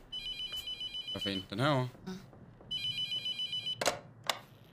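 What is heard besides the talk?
telephone ringing in a horror video game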